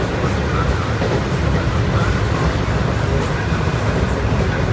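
A train rumbles steadily at a railway platform, a loud, dense, continuous roar with grinding wheel noise and no clear breaks.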